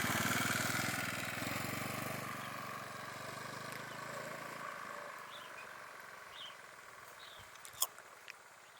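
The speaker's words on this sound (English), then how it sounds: "That's my go at learning the scooter, my first day." A scooter engine runs during a first day of learning to ride in Pai, Thailand, a steady low droning hum that fades partway through, followed by a few sharp clicks and knocks.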